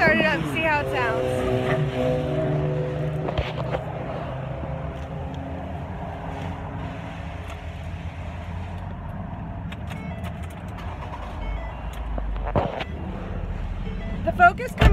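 A 2011 Ford Focus SEL cranks briefly and settles into a steady, low idle hum that carries on throughout, with a voice talking over the running engine.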